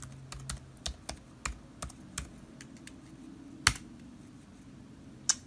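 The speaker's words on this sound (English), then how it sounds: "then you type in the password for your computer" Someone types a password on a computer keyboard, giving a series of quiet, close key clicks in an uneven rhythm with a few sharper taps, heard alone in a quiet room.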